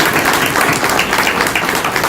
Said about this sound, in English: Please join me at giving them a hand of applause